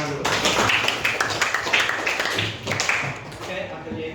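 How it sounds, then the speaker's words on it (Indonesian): A school class claps hands in a burst of applause, close and fairly loud, fading toward the end, with talk mixed in. "Oke, tepuk tangan dulu."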